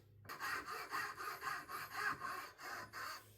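A file rasps back and forth across a wooden knife handle for a sgian dubh in steady, even strokes, about eight passes, close and fairly loud with no talk.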